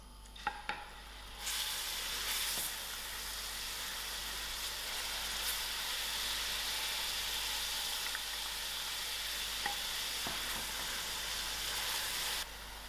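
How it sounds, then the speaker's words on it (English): Onions fry in oil in a pot over medium heat. After a couple of light clicks, a steady, even sizzle starts and holds for the rest of the time, moderately close, with no speech. "I will allow these onions to fry a little."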